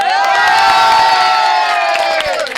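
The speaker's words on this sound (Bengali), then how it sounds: "মানিক রাজার জন্য একটা হাততালি হয়ে যায়" Crowd at Gabtoli cattle market in Dhaka cheering loudly for a prize Qurbani bull, a dense sustained roar of many voices with raised shouts, close and continuous.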